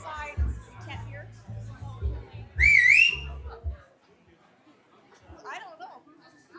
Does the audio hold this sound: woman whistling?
yes